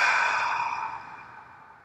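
A single deep breath out during guided breathing, a close, soft airy exhale that fades steadily over about two seconds.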